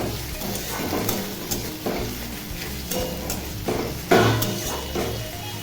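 Chopped onion, tomato and green chilli fry lightly in a pan for egg tadka, a soft sizzle broken by regular stirring scrapes and clatters about once a second, close by with no talking.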